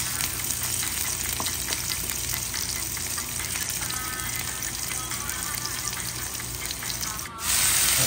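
Garlic and onion sauté in a hot pan with a dense, continuous sizzle, stirred now and then with soft scraping, cooking loudly and close up without talk.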